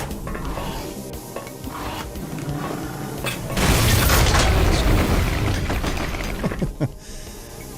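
A nuclear pipe bomb blows up in Duke Nukem 3D, played with the Alien Armageddon mod: a loud, broad boom swells at mid-clip and rumbles on for several seconds over busy game noise.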